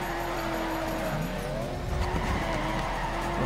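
A Mazda FD RX-7 in the Torque Drift video game drifts with a clutch kick, its engine droning steadily while tyres squeal and skid continuously, loud and close throughout.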